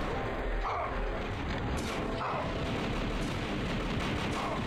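Enemy gunfire in Star Wars: Shadows of the Empire, with repeated blaster shots and blasts pounding steadily over a dense, loud, continuous combat rumble.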